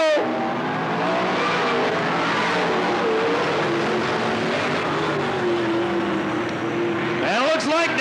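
Race cars roar around the oval at Cottage Grove Speedway on the final lap, a loud continuous engine drone with rising revs as they pass, a race announcer talking over it throughout.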